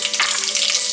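Mustard seeds dropped into hot oil for a chicken gravy, giving a dense, bright crackling sizzle that stays steady and close for a brief second.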